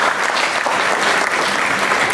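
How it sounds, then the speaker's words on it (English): Sustained audience applause at a gala dinner, dense steady clapping from a crowd filling the whole stretch without pause. "A round of applause, ladies and gentlemen, for a wonderful presentation"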